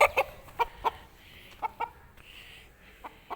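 A hen of a Khalis breed clucks in short, close, sharp calls with brief gaps between them.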